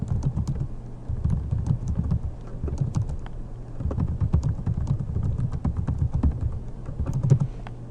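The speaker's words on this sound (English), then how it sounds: "I'm going to type my name or a message." Steady typing on a computer keyboard, a continuous patter of close key clicks lasting throughout, with no talking.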